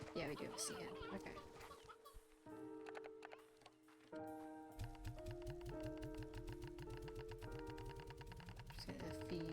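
Sea hens cluck over and over in the game Slime Rancher 2, their calls laid over music-like tones and a steady run of quick, evenly spaced knocking beats that carries through the second half.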